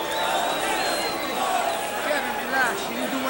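A boxing arena crowd reacts badly after a knockdown, a broad steady roar of murmuring and jeering voices with a brief swell near the end, heard under a close commentator voice.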